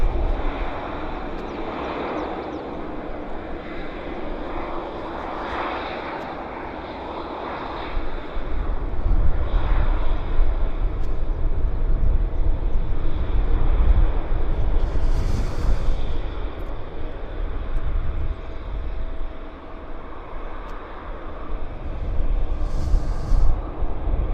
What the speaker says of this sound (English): Got another aircraft landing, so I'll slowly move the camera around.